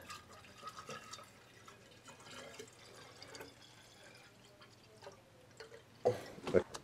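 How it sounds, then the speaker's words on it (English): Water running into a container to fill film developer solution up to one liter, a faint trickling and dripping stream under soft background hum, ending in a few louder splashes and clunks. "We fill it up for one liter."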